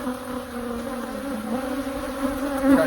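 Bees buzz at the bottom of a beehive, a dense, continuous hum of many insects with wavering pitch, close and moderately loud, swelling near the end, with no talking.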